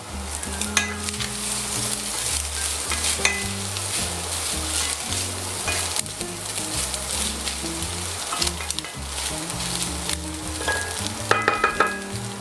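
Meat and mushrooms sizzle in a hot pan, a loud, continuous frying crackle broken by scraping stirs from a utensil.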